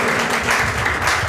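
A church congregation at a pastor's service claps hard and fast together, a dense, even burst of applause filling the room.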